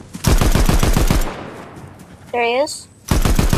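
Loud close shotgun blasts in Fortnite gameplay, a rapid cluster of booming shots at the start and another burst at the end, with a short voiced remark and a chirpy in-game effect between them.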